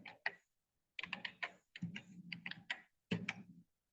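Close, crisp keystrokes on a computer keyboard come in quick irregular bursts separated by short pauses, with nothing else audible.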